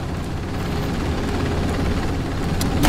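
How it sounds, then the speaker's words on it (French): Helicopter arriving in the video game Tactical Assault, a steady loud low rotor and engine rumble that holds for about three seconds and swells slightly at the end, with no talk over it. "L'hélicoptère est là."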